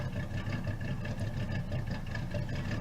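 A car engine with a cam in the video game BeamNG.drive idles with a droning, lumpy rumble, steady and close, with no voices.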